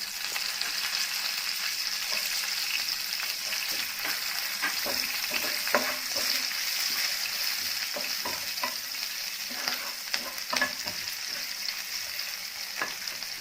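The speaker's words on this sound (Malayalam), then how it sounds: "ഇനി നമുക്ക് പച്ചമുളകും കറിവേപ്പിലയും ഒന്ന് ഫ്രൈ ചെയ്തെടുക്കാം" Green chilies and curry leaves fry in oil already used for soya chunks, giving a steady close sizzle with scattered sharp crackles and pops throughout, no voices.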